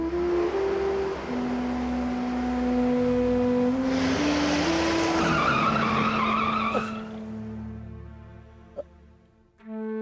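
A car brakes to a stop with a long tyre screech and whining tones that drop as it slows, then a short knock and quiet idling. The car has a punctured rear tyre. No one speaks.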